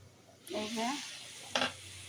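Haleem mix and spices fry in a pan while a curry of katla fish is being prepared, a soft sizzle under a brief spoken phrase, followed by a sharp hiss burst near the end.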